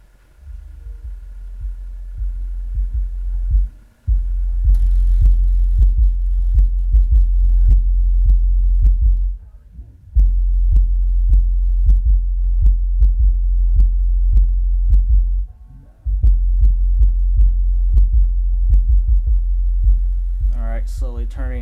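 An MTX JH4512A Jackhammer subwoofer plays a bass-heavy song, with loud, deep pulsing thumps and a steady rumble continuing for the whole stretch, broken only by a few brief dropouts.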